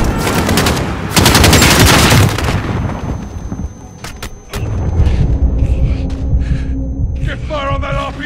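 Gunfire aimed at an RPG in the video game Call of Duty Modern Warfare, sustained automatic bursts and heavy booms that are loud and close, with shouted voices mixed into the combat noise.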